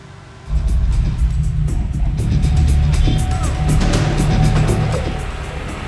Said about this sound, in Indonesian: sebuah video yang menampilkan ulah seorang pengendara mobil berkendara ugal-ugalan dan melaju kencang di Jalan Urip Sumoharjo